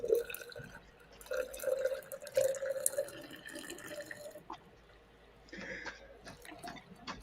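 A coffee maker drips steadily while coffee brews, a run of small liquid drips and trickles close by that thins out and falls quiet partway through, then resumes faintly.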